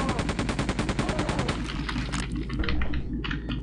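Rapid, evenly spaced enemy gunfire in the shooter Quake 2, loud and close for about a second and a half, then breaking into a scattered, rumbling clatter of shots and impacts.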